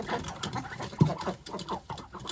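Busy wet pecking and dabbling patter, many small irregular bursts close by, as ducks slurp duckweed from the water, with no voices.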